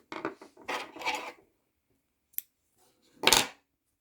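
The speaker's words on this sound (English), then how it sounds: "Now we can cut off the yarn." Scissors cut crochet yarn in two short, close snips, heard alone after a stretch of soft handling noise.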